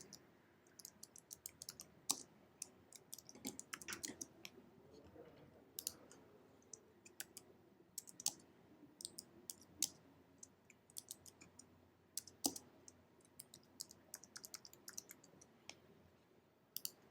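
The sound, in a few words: typing on a computer keyboard while filling in a form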